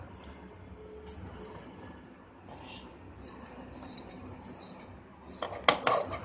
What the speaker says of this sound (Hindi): अब जो एक्स्ट्रा कपड़ा है इसे हम काट के